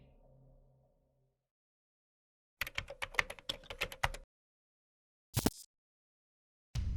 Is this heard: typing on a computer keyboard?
yes